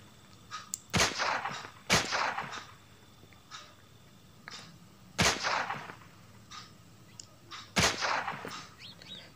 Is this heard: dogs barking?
no